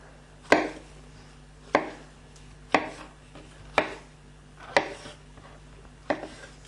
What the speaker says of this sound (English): Now, I've got a handful of mushrooms here. It's about 125 grams or 4 ounces. And I'm just going to roughly chop those.